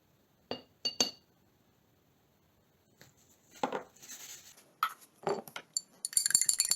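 Homemade silicone sealant mixed with vinegar and pharmacy glycerin is stirred in a container, giving close, sharp clinks and scraping taps in scattered bursts that grow busier and denser toward the end, with no talking.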